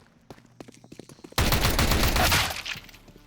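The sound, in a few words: FAMAS rifle gunfire in a video game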